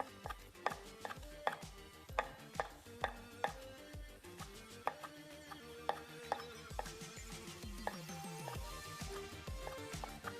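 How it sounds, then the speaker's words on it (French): A knife chops beef on a board into small cubes for steak tartare, a quick steady run of crisp close taps, faint and fairly regular, with no one speaking. "Je commence par couper de belles tranches de bœuf."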